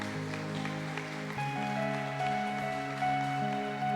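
A church congregation claps loudly during a Brazilian evangelical service, a dense, rain-like patter of many hands under sustained keyboard chords throughout.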